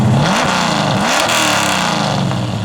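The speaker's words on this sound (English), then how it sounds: "You can hear the kick down on it works." A 1966 Ford Mustang Fastback 2+2 engine revs hard on kick down, a loud close roar with a few rising surges over steady rumbling.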